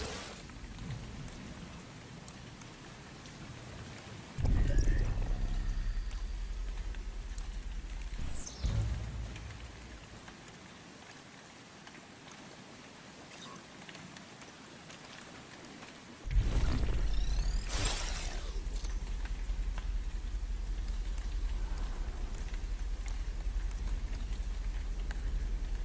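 Rain falls steadily across a moonlit area in the game République, a constant hiss that swells in loud surges with low rumbling bursts, lasting throughout with no voices.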